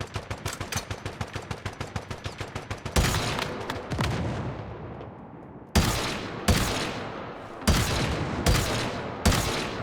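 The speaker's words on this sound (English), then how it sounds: "I'm just shooting everywhere, hoping the ricochet would kill it" Gunfire in the video game Once Human: a rapid automatic burst of evenly spaced close shots, then a run of heavy, booming single blasts with ringing tails, loud and with no talk.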